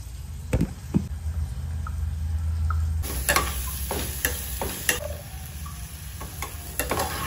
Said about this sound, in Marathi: आता मी टाकणार आहे हे जे आपण वाटलाय ना तो मसाला.